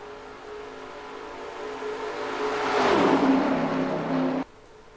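Race cars roar around Daytona in NASCAR Racing 2003, a pack of engines droning steadily, then swelling louder as cars sweep past close by before the sound drops off abruptly.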